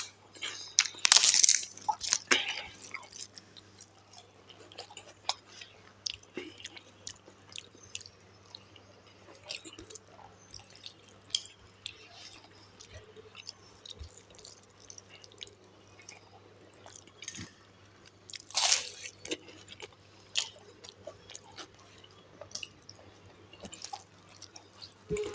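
A person chewing and eating food outdoors in hot sun, with soft crunches and wet bites scattered across the stretch, close and fairly quiet over a steady low hum, a louder crunch near the start and another later.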